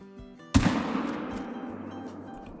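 A single sharp gunshot from a .45-70 lever-action rifle in the hunting game Call of the Wild cracks suddenly after a quiet pause. It booms loudly, then fades into a long rolling echo.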